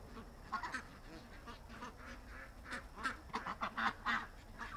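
A series of nasal quacks comes in irregular bursts, some doubled, moderately close against a quiet outdoor background.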